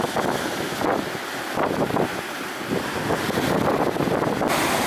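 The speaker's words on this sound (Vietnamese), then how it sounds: "mọi người cũng nghe được âm thanh sóng đánh rồi đó, cũng tương đối là mạnh các bạn" Fairly strong sea waves crashing near a barge of a few dozen tonnes out at sea, a loud, continuous roar of surf mixed with heavy wind buffeting the microphone, without voices.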